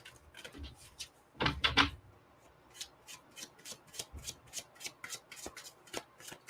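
A deck of oracle guidance cards is shuffled by hand in a quiet room, with a dense riffling burst followed by a rhythmic series of soft, close slaps and rustles as the cards are cut and tapped.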